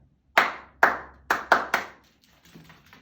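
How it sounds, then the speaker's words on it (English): Five crisp hand claps in quick succession, close and distinct in a quiet room, followed by faint soft tapping. "Mr. Granite clapped his hands together"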